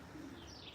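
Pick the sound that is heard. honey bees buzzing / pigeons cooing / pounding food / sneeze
pigeons cooing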